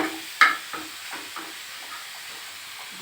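Spices fry in a hot pan for jackfruit kofta, giving a soft, continuous sizzle broken by a sharp stirring clack and a few lighter scrapes, heard up close without any voices.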